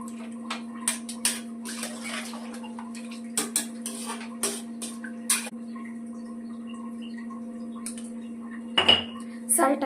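Pulao with added water being stirred in a pot, giving scattered clinks and scrapes of a utensil against the metal over a steady hum, with a louder clatter near the end and no talking.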